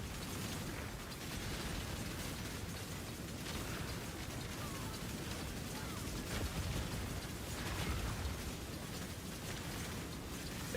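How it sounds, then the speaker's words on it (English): Path of Exile spell explosions burst and pop continuously in dense, crackling game combat, loud and steady throughout with mechanical clatter and small louder swells near the end. "Just making that explosion."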